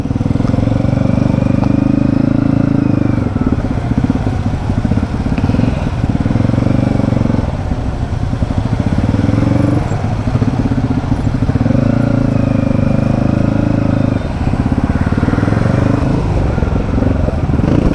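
A motorcycle engine drones up close while crawling through a congested morning street jammed with cars, motorbikes and stopped angkot minibuses, its low rumble rising and easing steadily, with light talk over it.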